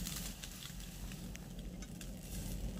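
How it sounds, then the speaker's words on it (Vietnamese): Eggplant slices pan-searing in a pan and being flipped, with a steady, close, soft sizzle and light stirring clatter throughout, and no talking. "Giờ chúng ta chịu khó chúng ta đảo một cái. Đó, chúng ta áp chảo trước để nó không bị nát cái miếng cà của mình"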